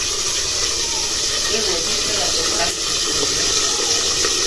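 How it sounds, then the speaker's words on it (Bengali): Large boal fish frying in very hot oil gives a loud, dense, continuous sputtering hiss, close up, with no pauses through the whole stretch. "বড় মাছ তো, বড় মাছ তেল হয় এজন্য ফুটে। আর তেলটা বেশি গরম হয়েছে।"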